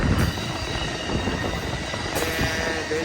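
Amtrak Coast Starlight train #11 rumbles steadily past Oakland Coliseum Station, a loud continuous roar of wheels and cars rolling by with periodic rhythmic clacks, no voices.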